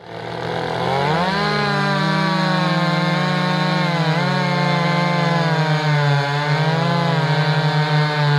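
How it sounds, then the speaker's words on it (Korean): A household engine chainsaw runs loud and steady for several seconds while cutting wood, its buzzing engine note dipping and rising under load. "경쟁기종 엔진톱을 서로 이제 나무를 자르는 시합을 하는 영상들이 상당히 많죠"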